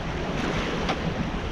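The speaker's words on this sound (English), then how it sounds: "the waves are crashing pretty good" Ocean waves crashing on a cold, windy shore near a seaplane airport, a broad continuous roar of surf mixed with gusty wind buffeting the microphone, with no voices.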